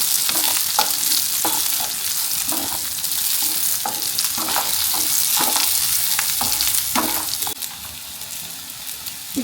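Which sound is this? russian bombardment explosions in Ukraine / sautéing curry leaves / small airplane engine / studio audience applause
sautéing curry leaves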